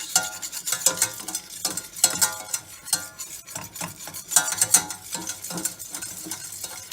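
A whisk beats a roux in a pan for mac and cheese sauce, with steady, rapid scraping and clicking strokes against the metal over a soft sizzle, close and continuous, no voices.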